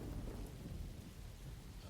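Steady heavy rain with a low thunder rumble in a film scene, a dense continuous wash of sound at a constant level with no voices.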